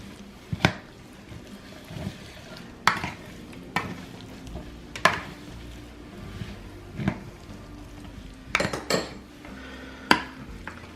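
Cauliflower casserole ingredients with minced garlic, salt and pepper being stirred in a bowl, with repeated sharp utensil clacks against the dish at irregular intervals over a quiet background.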